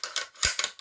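Bolt of a new Savage 110 Trail Hunter rifle, unoiled and straight out of the box, cycled back and forth: a quick series of close metallic clicks, slides and a firmer clack in the middle, with no talking.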